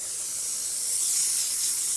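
The steam wand on a Lucca M58 espresso machine hisses loudly and continuously after a full tune-up, a bright, airy spray with no pauses that swells slightly toward the end.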